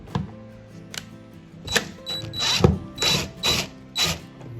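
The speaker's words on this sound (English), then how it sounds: "And we're going to loosen those screws." Screws loosened on a window blind fitting, a few close clicking, ratcheting turns in short bursts that grow louder toward the end, with faint background hum.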